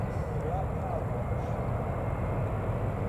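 Eurowings Airbus A320 at Newcastle Airport, a steady broadband engine roar from the airliner at moderate distance, constant throughout with no talking.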